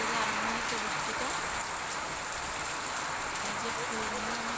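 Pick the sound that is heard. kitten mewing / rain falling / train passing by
rain falling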